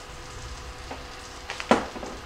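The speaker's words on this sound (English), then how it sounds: "I have a big skillet here sitting on medium-high heat, and I'm just going to add about 1 tablespoon of butter" Butter and a little oil sizzle in a big skillet over medium-high heat, a soft steady frying hiss with a few brief pops and clatters near the end, close by with no voices.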